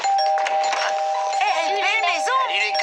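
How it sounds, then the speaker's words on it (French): Doorbell at a house rings with a sustained electronic tone throughout, loud and close, while voices talk over it. "arrêtez avec cette sonnette"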